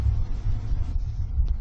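Deep, continuous low rumble of thunder during a lightning storm, rolling steadily for a couple of seconds at moderate loudness with no voices over it.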